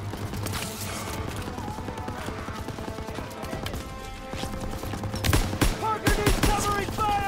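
Covering gunfire in Call of Duty WWII crackles in dense bursts of rifle and machine-gun shots throughout, swelling louder near the end, with battlefield noise and faint shouting mixed in.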